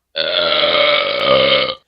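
A single long, loud belch, drawn out for over a second and a half, heard alone with no talking.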